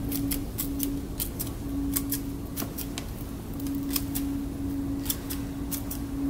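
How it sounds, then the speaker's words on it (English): Scissors snip the extra roots off dahlia tubers in a steady series of crisp, close clicks, with a faint hum running underneath. "I'm going to just snip off the extra roots that don't need to be there."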